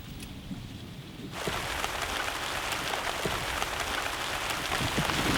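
Rain starts on a mung bean field, at first light and sparse, then suddenly turning into a dense, loud patter of drops that holds steady.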